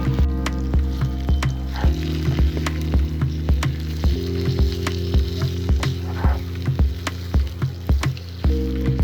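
Chicken liver frying with onions in a pan, a steady hissing sizzle throughout with frequent clicking stirs of a utensil against the pan, close and loud, with no talking.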